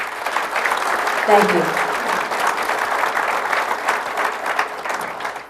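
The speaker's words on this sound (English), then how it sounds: "I'd like to give them a round of applause as well" Steady audience applause fills a town's state-of-the-town address, a dense crowd clapping throughout at moderate level while someone briefly speaks over it.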